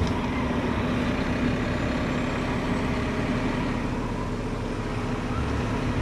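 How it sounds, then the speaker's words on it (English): Mack McNeilus garbage truck packing its blade on the go, a loud steady diesel drone and hydraulic rumble heard from the driver's seat, continuous throughout with no talking. "how I'm packing the blade back while I'm driving"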